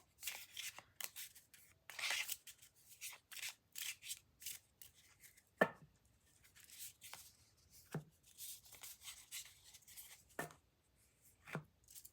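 A mini card deck being shuffled by hand in quick riffles and rustles, separated by a few sharp taps, close and quiet with no talking.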